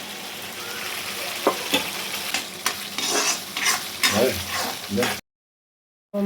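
Fish sizzles and spits in a hot pan, with the steady hiss of frying broken by a few sharp scrapes and stirring clicks, close and fairly loud before cutting to silence.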